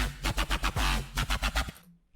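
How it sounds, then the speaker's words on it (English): Synth bass with no effects chain, a deep, full-low-end line of short punchy notes in a steady rhythm, closely recorded and stopping abruptly into silence. "this bass sound right here sounds like this"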